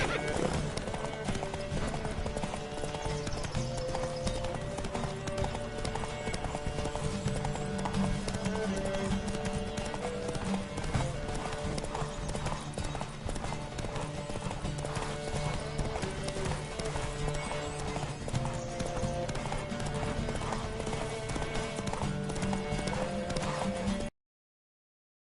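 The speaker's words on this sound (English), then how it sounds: "Don't spare the horse! Faster." Horses galloping in The Witcher 3, a rapid continuous clip-clop of hooves with an occasional whinny, loud and sustained for over twenty seconds under game music and some shouting voices, ending abruptly.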